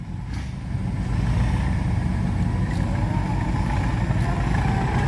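Vehicle engine straining while stuck in a rubber plantation, with a low, steady, continuous rumble held at an even level and no voices.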